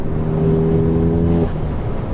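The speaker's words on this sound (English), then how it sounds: "This car sounds awesome, feels awesome" A Volkswagen MK7 GTI engine with a stage 3 clutch drones loudly and steadily with a strong tonal hum that drops off partway, close by, with no voices.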